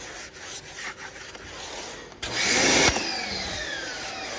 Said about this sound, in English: Love this brush, Detail Factory tire brush. To clean the rubber tire.